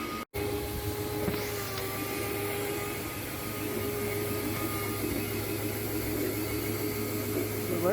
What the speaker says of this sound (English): it is a wet vacuum, so it sucks out water too